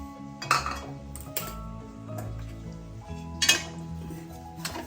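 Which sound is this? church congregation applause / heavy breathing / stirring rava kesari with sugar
stirring rava kesari with sugar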